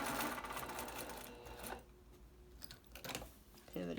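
A home sewing machine stitches a fabric face cover in short bursts of rapid mechanical whirring with brief pauses between, heard close up alongside a speaking voice.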